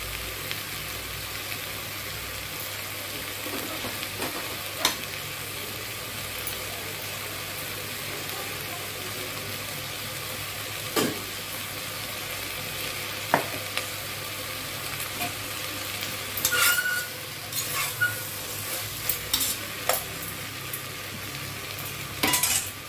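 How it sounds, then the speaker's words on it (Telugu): Mustard seeds sizzle and crackle in hot oil, tempering for buttermilk rasam. A steady frying hiss runs throughout, with sharper pops and spatters clustering toward the end. "ఆవాలు వేస్తున్నాను మజ్జిగ చారు తాలింపుకి."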